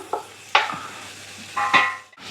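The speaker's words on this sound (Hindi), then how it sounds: "इसको कीजिए फ्राई जब तक कि इसका रंग जो है वो सारे गोश्त का तब्दील नहीं हो जाता" Mutton sears in a pot for qorma, with a few metal stirring scrapes and sizzling bursts over a quiet low background, close by and without voices.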